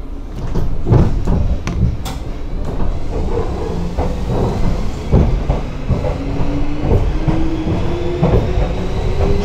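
A 651 series express train, a 1989-era design once used on the Joban Line, runs along the tracks with a steady rumble, rhythmic clacks and clunks, and a faint rising motor whine.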